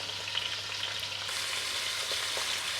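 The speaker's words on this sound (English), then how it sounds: "they're all starting to get a beautiful sear around the whole exterior of the shank" Lamb shanks searing in a hot pan before braising, giving a steady, even sizzle and hiss close by, with faint crackles and no voices.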